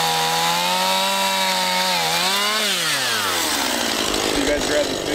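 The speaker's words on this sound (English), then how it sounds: "So this little chainsaw is actually really handy" Stihl MS 171 chainsaw cutting into a tree, its engine whining loud and close with pitch rising and falling as the chain bites, steady throughout the cut.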